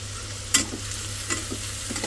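Onions and green chilies frying in a pan, with a steady low sizzle, a couple of sharp scraping stirs, and a constant background hum.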